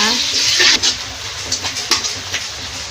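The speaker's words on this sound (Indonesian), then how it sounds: "Kita aduk lagi hingga mendidih ya." A clam sauce cooking in a pan with water, stirred as it heats toward a boil, giving bursts of bubbling, scraping and sizzling noise close up.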